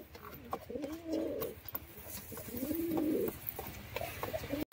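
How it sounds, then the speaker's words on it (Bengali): Pigeons coo in two drawn-out, rolling bursts from a nearby pair in a loft, one male calling to a female, over a steady low background hum and faint rustling. "এই হচ্ছে পায়রার ডাক করা শুরু হয়ে গেছে"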